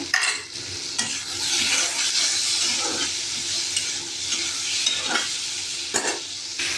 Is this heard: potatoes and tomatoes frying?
yes